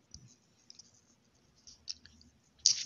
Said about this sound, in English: So I'm just gonna click on swap